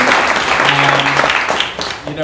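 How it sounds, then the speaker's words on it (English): Audience at a candidate forum clapping in a dense burst of applause that lasts a couple of seconds, with voices mixed into the crowd noise. "another round of applause for Arielle for John Crisadoro getting elect"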